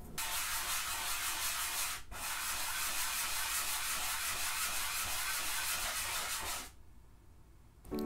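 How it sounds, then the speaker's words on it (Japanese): A file or rasp is worked over the base and underside of a hand-carved wooden Hina doll, a steady close, loud abrasive scraping that runs continuously with one brief pause and stops near the end. "あとは台の線と裏をヤスリがけすれば完成です。"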